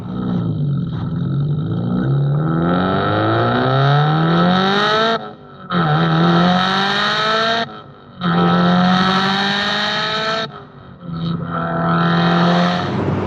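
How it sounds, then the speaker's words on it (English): A 360 bhp Subaru Impreza STI Spec C WR Limited, a road-legal JDM car, revs hard through its range with turbo spool, rising engine tones repeating in loud sweeps broken by brief gear-change pauses. "The way it just picks up speed, it goes through the rev range, the turbo spools, perfect."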